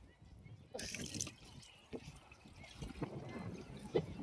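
Water is poured into a bird water feeder in windy outdoor conditions, a soft splashing and trickling that starts after a short pause and continues faintly with scattered drips, voices talking nearby.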